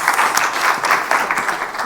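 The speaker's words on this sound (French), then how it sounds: "On l'applaudit quand même" A church congregation breaks into brief, lively applause, dense and close, with overlapping claps swelling in short bursts.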